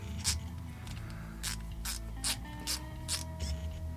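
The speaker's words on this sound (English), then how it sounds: "You can put whatever adapter, go one way and ratchet it." A ratchet fitted with a Torx bit adapter clicks in short, uneven bursts while it is turned back and forth in a quiet workshop setting.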